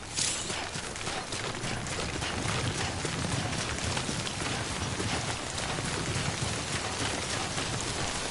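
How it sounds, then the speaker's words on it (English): Timefall rain in the video game Death Stranding, a dense steady patter of rain falling close by, with soft repeated footsteps underneath. "Sam, remember that prolonged exposure to timefall damages cargo containers. Don't stay out in the rain any longer than you have"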